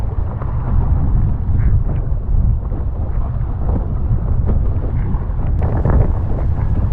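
Strong wind roaring past a windsurfer heading out of a harbour, steady low buffeting gusts hitting the microphone loudly throughout, no voices.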